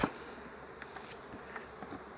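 Honey bees buzz around a hive swarm built on three frames, a steady close drone with a few louder passes of individual bees, and no talking.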